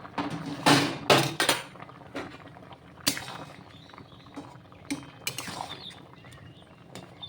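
A lid comes off a pot of green mangoes boiling for jam, with a few loud metallic clanks and clinks early on, then quieter scattered knocks and a soft simmering background.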